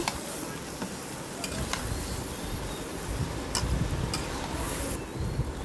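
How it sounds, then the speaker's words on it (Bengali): Vegetables being stirred with spices in a cooking pan for a rohu fish curry with drumsticks, small potatoes, tomato and eggplant, giving a steady close sizzle with scattered scraping clicks of the spoon against the pan. "সবজিগুলো মশলার সাথে ভালোভাবে মিশিয়ে নিচ্ছি নেড়ে চেড়ে"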